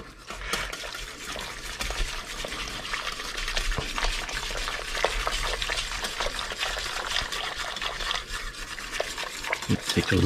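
A whisk working gravy in a pan beside a slow cooker bottom round roast, a steady close scraping and sloshing that runs continuously with no talk.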